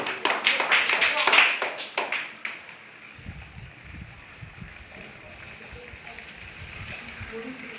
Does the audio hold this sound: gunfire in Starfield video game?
no